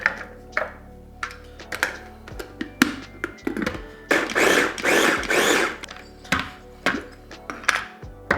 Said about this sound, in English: All of this is gonna go into a food processor.